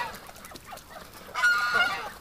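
A duck being handled during a winter outing gives a short loud honking call near the end of a few quiet seconds, close and clear.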